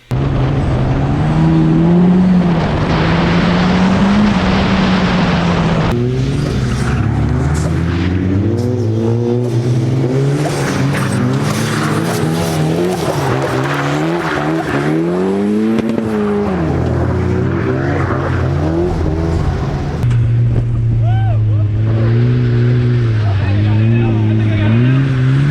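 A project car driven hard around a slip angle test track, its engine revving up and down through gear changes with rising and falling pitch, loud and close, under steady talk.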